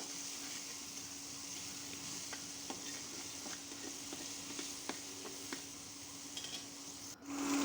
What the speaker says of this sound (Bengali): কড়াইতে এবার তেল দিয়ে দিয়েছি দিয়ে কয়েক টুকরো আলু হলুদ আর লবণ দিয়ে ভেজে নেব